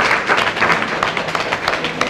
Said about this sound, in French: Encore des applaudissements pour M.